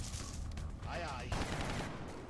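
Gunfire in the XCOM Long War strategy video game, a short burst of rapid shots and crackling impacts mixed with game effects over a low rumble, with some voice in the mix.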